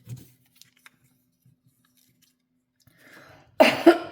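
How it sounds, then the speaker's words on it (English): A person coughs in a short, harsh burst near the end, following several seconds of near silence and faint rustling during a crafting session. "Now my throat is all scratchy after my little cough attack."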